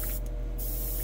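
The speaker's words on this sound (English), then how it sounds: "Now, we're backwashing back into the cup" An airbrush backwashes air into its paint cup during cleaning between colors, giving a steady hiss with a brief sharper sputter near the start, close and constant.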